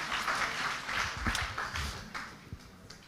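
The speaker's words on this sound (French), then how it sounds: "Est-ce qu'on peut applaudir le Seigneur?" A church congregation claps together in a soft, diffuse patter that swells and fades, sounding distant and fairly faint with a few sharper individual claps near the end.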